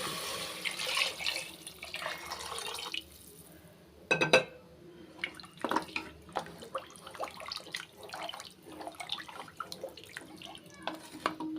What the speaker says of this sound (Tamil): ஆறு கப்பலை வந்து தண்ணி சேர்த்துக்கிறேன்